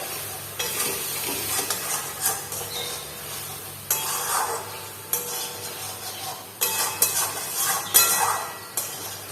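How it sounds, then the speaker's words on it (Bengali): Hot water added bit by bit to a simmering vetki fish curry with potatoes as a spoon scrapes and stirs the pan, giving repeated gritty scraping strokes over a soft sizzle. "তো দেখো এখানে গরম জলটা হচ্ছে, একটু একটু এর মধ্যে দেবো, নাহলে না নিচটা ধরে যাবে।"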